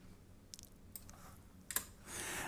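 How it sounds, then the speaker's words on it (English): Sparse computer keyboard typing: a few isolated key clicks and short taps spaced across a couple of seconds, close by and fairly quiet, with a louder burst of keystrokes near the end. "And I'm going to start typing."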